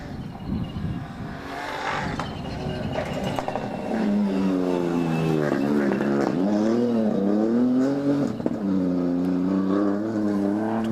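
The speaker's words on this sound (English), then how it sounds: "You hear the very distinctive sound of the R4 Fiesta in the distance." A Ford Fiesta R4 rally car engine revs at a distant rally stage, its tone rising and falling in repeated surges as the throttle is worked, steady and unbroken throughout.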